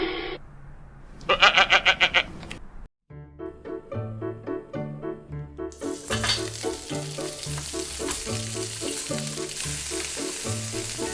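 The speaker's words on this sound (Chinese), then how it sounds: "将海鳌虾和任何想吃的海鲜在橄榄油中煎至半熟后捞出备用。" Langoustines and mixed seafood fry in olive oil for a seafood paella, a steady sizzle that starts after a short break, under loud background music with sheep-like bleating tones early on.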